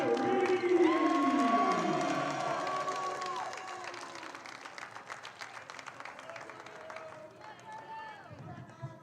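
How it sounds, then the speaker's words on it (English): Crowd at a men's college volleyball match applauding and cheering as a player is introduced, loud at first and then tapering off, with an announcer's voice and some whoops mixed in. "let's get a big round of applause for Alberto"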